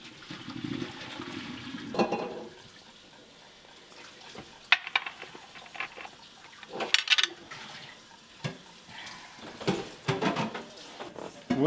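Tap water runs and splashes while mushrooms are washed, irregular bursts of rushing water with clatter and handling noises between them.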